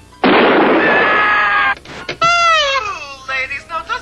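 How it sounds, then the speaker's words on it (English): Cartoon tape recording of a wounded bear: a loud, harsh roaring burst lasting over a second, then a short pause and a series of wavering, moaning cries that rise and fall, fading into smaller yelps. "Jim, we just happen to have a tape here of an actual wounded bear"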